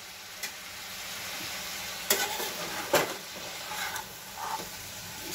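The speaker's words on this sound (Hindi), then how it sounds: "इसको 2 मिनट में भूनने के लिए रख देती हूँ।" Jackfruit curry frying and being stirred in a pan, a steady soft sizzle with a few sharper scrapes and clinks of the spoon against the pan, no talking.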